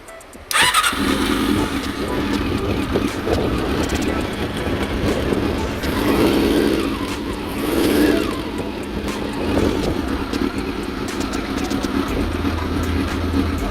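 A CB-1 motorcycle with an overheating problem, one cylinder cutting out and a suspect carburetor, starts up and runs with a steady, rough, loud engine drone that fluctuates slightly over about thirteen seconds.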